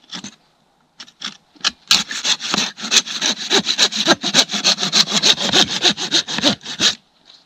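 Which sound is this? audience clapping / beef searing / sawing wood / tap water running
sawing wood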